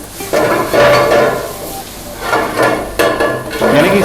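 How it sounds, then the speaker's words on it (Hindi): Garlic tempering in hot oil in a frying pan, cooked for gravy momos at a food stall in Solan, with bursts of sizzling and frying alongside stirring and clinks of metal utensils against the pan. "जो चॉपिंग की थी उसको पूरा यहाँ पर तड़का लगाया जा रहा है"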